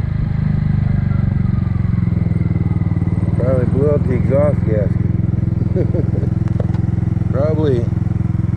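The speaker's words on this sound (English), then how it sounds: "I think I blew out the exhaust gasket. She ain't sounding right." A Kymco scooter with a blown exhaust gasket idles loudly and steadily nearby, its engine giving a raspy, buzzing rattle throughout while someone talks briefly over it.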